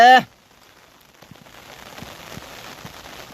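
Heavy monsoon rain pours steadily, a soft, constant hiss with scattered drop taps that thickens over several seconds after a brief voice at the very start.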